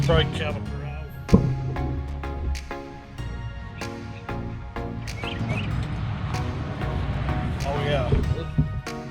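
A brake on a Honda Pioneer 520 side-by-side ATV lets out high, thin chirping squeaks in short repeated bursts among knocks and clatter, with someone talking briefly over it.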